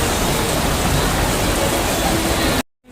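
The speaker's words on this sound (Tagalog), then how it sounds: "hindi tumigil ng ulan" Heavy rain pours steadily as a dense, even hiss, then cuts off abruptly near the end.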